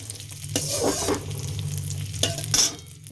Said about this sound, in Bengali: প্রথমে কড়াই ঘি দিয়ে কাজু কিশমিশগুলোকে একটু হালকা নেড়ে নিয়ে